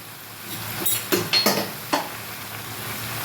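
A few scraping stirs of a spoon through spinach and fish head in a pan, four or five brief strokes against a steady low background.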